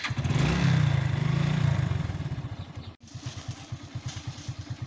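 A motorcycle engine revs up loudly for about two seconds, then drops after a sudden break into a quicker, even pulsing putter as it is ridden along, close by with no talking.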